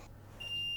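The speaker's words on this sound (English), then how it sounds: "Quick test, beeping." A short, thin electronic beep from a repaired Nintendo DS console on test starts midway and holds steadily over a low background hum.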